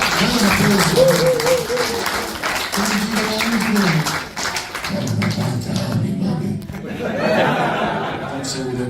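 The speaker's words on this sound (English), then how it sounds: "Round of applause for him." Audience applause and some laughter for a stunt panel guest at a fan event, mixed with voices and amplified chatter over the room, the clapping blending under talk throughout.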